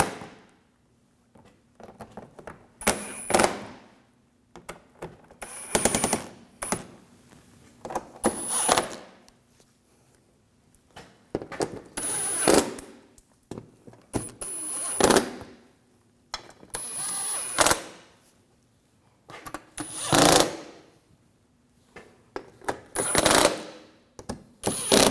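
Headlight assembly screws on a 2007-2013 BMW 328i are tightened with a ratchet, bursts of close clicking ratchet strokes repeating in regular groups with short pauses between them.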